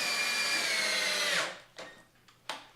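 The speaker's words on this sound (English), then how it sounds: "How much do you hear the drilling, by the way?" A power drill whirs steadily at close range, then stops; two or three brief bursts of the motor follow after a short pause.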